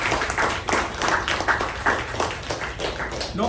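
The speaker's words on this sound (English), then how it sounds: "let's give a round of applause to the president" A meeting audience gives a round of applause for the acting president, a steady patter of many hands clapping close by, continuous for a few seconds with no voices.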